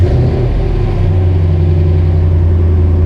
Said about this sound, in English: So what we're going to do is start the engine up.